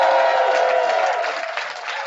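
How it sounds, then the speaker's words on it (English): Live seminar crowd giving a round of applause, a brief dense wash of clapping with some crowd noise, loud at first and easing off slightly. "Everybody give Joseph a big round of applause for helping."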